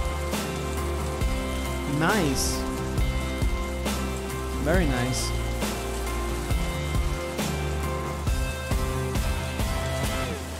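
Rain pours in a music track, heard under drums, bass and electric guitar with strong rhythmic hits, while a voice briefly speaks over it.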